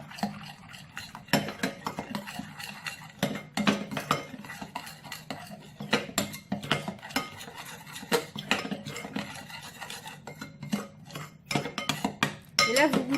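A utensil stirs chocolate mousse mixture in a bowl, with repeated close scraping and clinking strokes in an uneven rhythm, continuing steadily with little talk.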